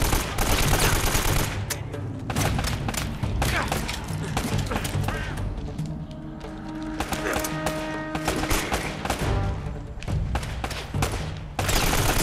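Dense gunfire from the video game Uncharted: Drake's Fortune, rapid bursts and scattered single shots layered over a busy game soundscape, loud and continuous, with a voice talking intermittently beneath it.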